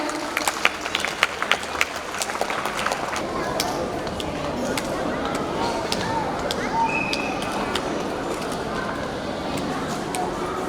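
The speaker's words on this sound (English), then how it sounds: "Put your hands together and clap for the winners, children." Children clapping for prize winners at a school Independence Day celebration, a dense crowd patter with a few sharper claps early on, steady and moderately loud, with voices underneath.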